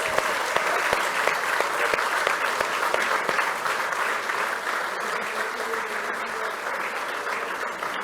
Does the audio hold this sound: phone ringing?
no